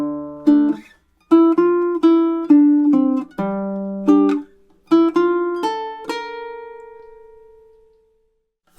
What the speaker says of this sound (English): So let's have a go at playing those two measures through together now.